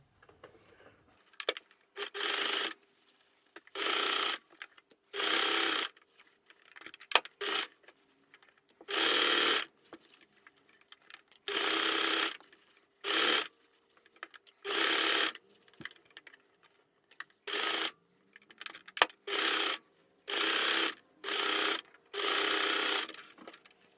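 A sewing machine stitches curved hat pieces together for a 1940s-style trilby, running in repeated short bursts with quiet pauses between, close and fairly soft.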